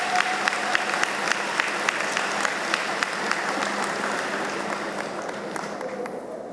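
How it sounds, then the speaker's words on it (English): Sustained audience applause at a university commencement ceremony, a broad even roar of many hands with a few sharper claps standing out near the front. "Another round of applause for all those"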